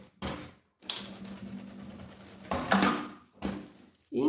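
A sewing machine stitches a seam on a bag strap in short runs, its close mechanical whirring stopping and starting several times with brief pauses between bursts.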